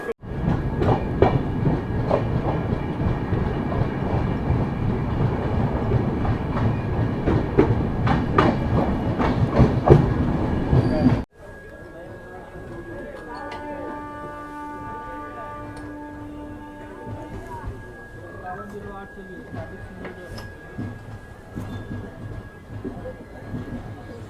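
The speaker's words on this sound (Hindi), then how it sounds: "हम लोग की ट्रेन लाभा रेलवे स्टेशन से निकल रही है।" Capital Express passenger train pulling out of Labha railway station, with loud, steady rumbling and wheel clatter for about eleven seconds, then an abrupt drop to a quieter interior hum carrying faint tonal whines.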